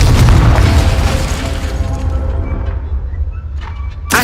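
A Confringo spell explodes in Hogwarts Legacy with a loud, deep boom that rolls off into a decaying rumble, followed by a short sharp hit at the end.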